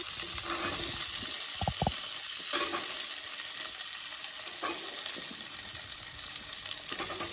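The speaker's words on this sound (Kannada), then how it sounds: "ಇವಾಗ ಇವೇನು ಉಳ್ಳಾಗಡ್ಡಿ ಅದಾವಲ್ಲ, ಉಳ್ಳಾಗಡ್ಡಿ ಹಾಕೋತೀನಿ ಇದಕ್ಕೆ ನಾನು." Onions and asafoetida fry in oil in a pan, a steady bright sizzle heard alone with occasional stirring scrapes and a couple of brief clinks.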